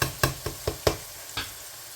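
Masala and tomatoes frying in a pan for bhindi masala, stirred with about six rhythmic scraping strokes over a soft sizzle, close and clear with no talking.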